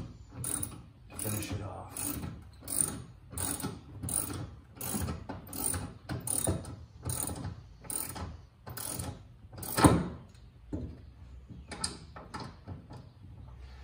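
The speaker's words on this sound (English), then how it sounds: "Now I use the ratchet" A ratchet clicks in quick repeated bursts, tightening support bar bolts on a rack fitted to a Jeep Gladiator. The strokes are close and crisp and fall in a steady rhythm. A short spoken phrase comes near the end as the clicking slows.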